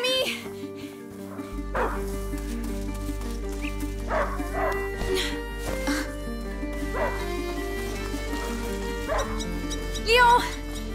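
In the video game A Plague Tale: Innocence, a hunting dog gives a few short yips and barks at a distance, under a steady musical score and ambient tones, with a brief louder yelp near the end.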